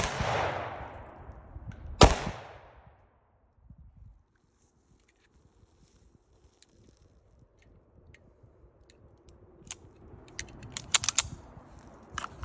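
A Rock Island Tac Ultra MS 10mm 1911 pistol fires, with a sharp loud report ringing into a fading tail at the start and another a moment later, then long quiet broken by faint clicks and handling noises.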